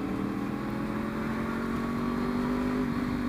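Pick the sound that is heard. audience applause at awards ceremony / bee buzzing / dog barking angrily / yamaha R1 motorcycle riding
yamaha R1 motorcycle riding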